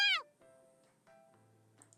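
A kitten in the visual novel You and Me and Her gives one short, high, clear meow at the start, followed by quieter faint tones and soft background sounds.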